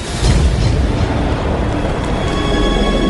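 A massive volcanic eruption rendered as a sound effect: a loud, continuous deep rumbling roar that holds steady and dense throughout.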